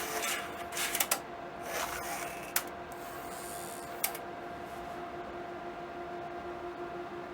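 A Panasonic DVCPRO AJ-D940 VCR with a broken front loading system hums steadily while a few soft mechanical clicks and knocks sound as it tries to take a cassette. Two sharper clunks stand out against the drone.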